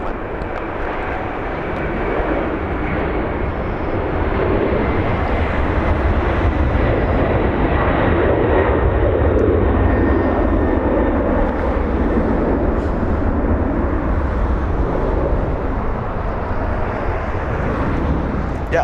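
A Boeing 767 airliner climbs out of LAX, a loud, continuous jet engine roar that builds and holds steady, heard from nearby at the airport with no voices over it.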